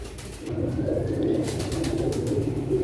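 Teddy pigeons coo close by in a steady, soft, rolling murmur with low throaty pulses, continuing without a break and with no talking over it.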